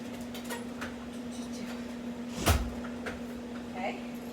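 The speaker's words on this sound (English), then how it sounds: "And then we're going to shut the door." A door is pushed shut during a home resistance-band workout setup, one solid thud midway through with lighter clicks and knocks around it, under a steady background hum.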